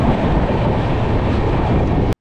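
Chozhan SF Express from Chennai Egmore to Kumbakonam rumbling along near Chetpet, a loud steady roar of wheels and carriages heard from on board, cutting off abruptly at the end.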